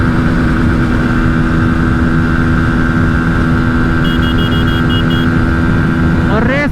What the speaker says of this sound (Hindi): लो इसमें देखो लिमिटर पे लिमिटर मारे जा रहे हैं